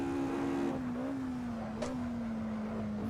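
A racing car engine in a sim racing game played on Asetek Invicta pedals, holding a steady droning hum at near-constant revs with a slight dip, loud and close with no talk.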